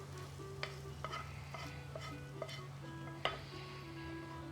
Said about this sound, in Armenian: Այո, մեր միսը տապակվեց